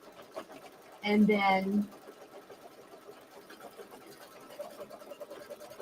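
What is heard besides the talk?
embroidery machine stitching a fabric placement line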